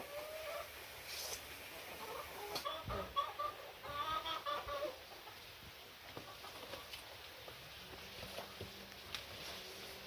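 A domestic hen clucking in a Kerala home yard, a few soft intermittent clucks at a distance over a quiet outdoor background.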